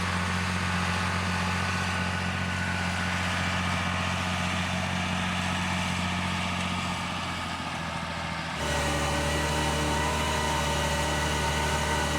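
A heavy tractor engine drones steadily and loudly throughout while planting, its pitch shifting slightly near the end, with no voices.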